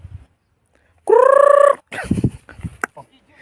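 A chicken lets out one loud, harsh squawk while being chased on a rural property, lasting just over half a second. Close-up talk follows right after.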